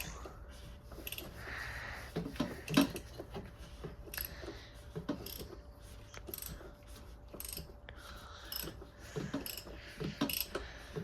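A ratchet tightens the oil filter cap on a BMW X5, giving quiet, close clicking bursts at irregular intervals with brief pauses between strokes.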